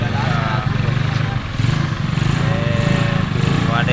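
A motorcycle engine drones steadily close by on a busy street next to a roadside stone stall, a mid-pitched idling and revving rumble that holds throughout while people talk over it.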